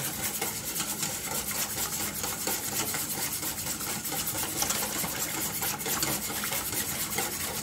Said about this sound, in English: Just whisk all that together.